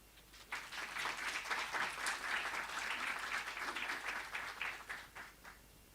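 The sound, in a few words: audience applause at annual general meeting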